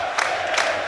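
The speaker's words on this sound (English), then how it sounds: "Now it's forward to Boateng as the crowd all get on their feet around us." Football crowd at a York City versus Yeovil Town National League match, a broad roar rising in two quick swells over less than a second, fairly loud and close all around.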